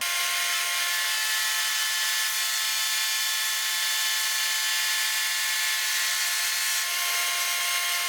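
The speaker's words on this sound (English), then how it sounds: "I've got a 1/2 inch roundover bit set up here in my Shopsmith." Shopsmith Mark 7 running a half-inch roundover router bit along the edge of a wooden step-stool seat, giving a steady high-pitched whine that holds constant throughout, loud and close with no talk.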